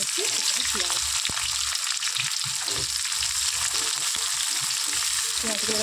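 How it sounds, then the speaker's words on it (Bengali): Whole garam masala, cardamom, cinnamon and eggplant frying in oil for a beef curry, a steady bright hiss of sizzling with occasional stirring scrapes, close and continuous, with a faint voice in the background. "হালকা ভাবে একটু ভেজে নিতে হবে"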